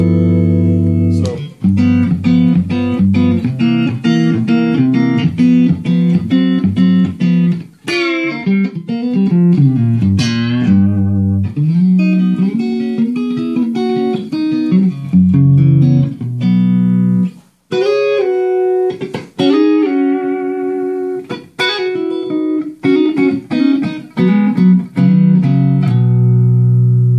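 Electric guitar played through the neck pickup of a Crook Custom vintage paisley T-style guitar, a continuous run of clean, sustained notes and chords with smooth tone, close and loud with no talking.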